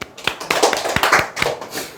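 Short bursts of hand clapping from a small group at an indoor sales seminar, irregular and close, with no talking over them.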